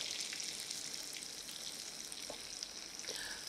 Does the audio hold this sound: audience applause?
no